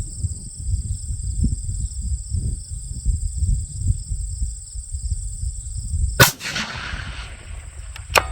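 A single sharp report from a .22 Nosler rifle fired from a standing position on a tripod ball mount at long range, cracking out after a stretch of low outdoor rumble and leaving a brief fading tail.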